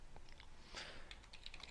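Quiet clicks of typing on a computer keyboard, a short burst of several light keystrokes with small gaps, entering commands while a bootable USB flash drive is being prepared.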